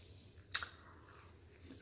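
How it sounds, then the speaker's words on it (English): Soft close-up chewing during a mukbang meal, one sharp crunchy bite, then faint mouth sounds over a quiet background. "so I'm gonna be smacking and chewing a lot"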